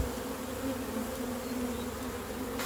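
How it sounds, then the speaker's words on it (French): A swarm of honey bees gathered from a swarm at Orly hums in a dense, continuous buzz, close and steady throughout with no talking. "Ah ouais, c'est un bel essaim"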